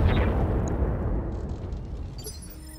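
Mech weapons fire in the BattleTech video game, a heavy booming blast that rumbles and slowly fades, followed by faint electronic game effects, with no talking.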